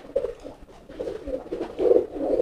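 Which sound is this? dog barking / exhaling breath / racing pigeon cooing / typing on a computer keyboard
racing pigeon cooing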